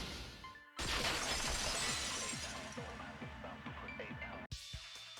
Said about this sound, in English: If it wasn't the window, then what broke to make that sound? A vase.